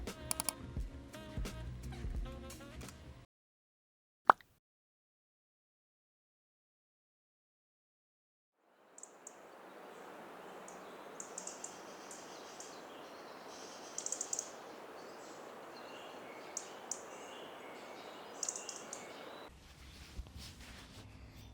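Small birds chirp and tweet outdoors in a steady, moderately distant chorus, with scattered brighter calls standing out over soft background rustle and no talking.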